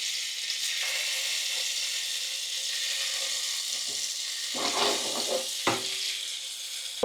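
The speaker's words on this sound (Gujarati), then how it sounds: "ચાલો તો હવે પનીર ફ્રાય કરી લઈએ." Paneer pieces frying in hot oil give a steady, loud sizzle throughout, with sharper bursts of spatter and crackle near the end as pieces shift in the pan; no one speaks.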